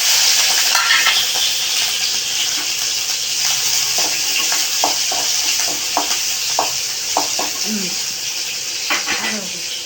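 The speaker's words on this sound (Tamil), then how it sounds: "கடுகு நல்லா இடிக்குது வெறிக்கட்டும்" Mustard seeds splutter and pop in hot oil in a pan while spinach greens are being cooked, giving a steady sizzling hiss with scattered sharp crackles and pops throughout. A voice speaks faintly underneath.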